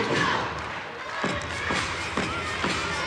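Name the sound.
teammates and crowd clapping along at a gymnastics floor routine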